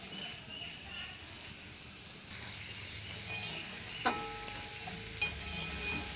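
Kohlrabi curry being stir-fried in a pan, a soft continuous sizzle with faint scraping of stirring and a couple of sharp utensil clinks near the end.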